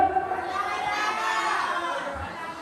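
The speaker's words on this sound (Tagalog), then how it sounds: "Ang sigaw ng mga people!" Pageant audience shouting their choice together, a loud sustained crowd roar with children's voices mixed in, close and lively.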